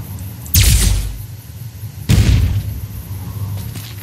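Two deep, booming blasts, about a second and a half apart, as trucks and other vehicles explode in the video game Fallout: New Vegas. Each boom fades into a rumbling tail.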